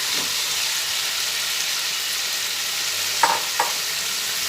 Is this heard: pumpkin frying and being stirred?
yes